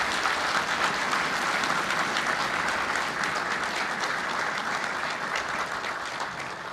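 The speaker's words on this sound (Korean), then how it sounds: "신임 장교들에게 다시 한번 힘찬 격려의 박수" Sustained, dense applause from a large crowd at a joint commissioning ceremony for new army, navy, air force and marine officers, steady and loud throughout.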